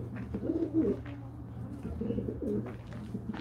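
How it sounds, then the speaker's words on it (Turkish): Low, rolling pigeon coos repeat steadily at close range, with soft bird murmurs and some faint background noise. "Şöyle kuşları göstereyim."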